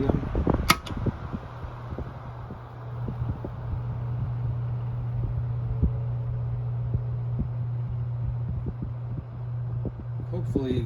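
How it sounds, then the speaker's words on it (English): A Toshiba Crystal Zephyr 30cm EL-31C desk fan motor runs on medium with a steady low hum, close by and continuous, under a furnace's background drone and scattered clicks. "Hopefully you guys can hear some of those motor sounds over the furnace"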